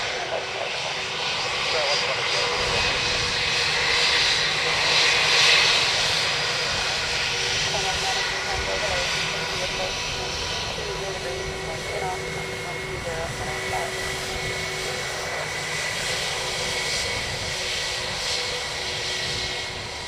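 Passenger jet engines roar steadily at Dublin Airport, a loud, broad rumble that swells slightly and holds for the whole stretch, with radio chatter and a voice talking faintly over it.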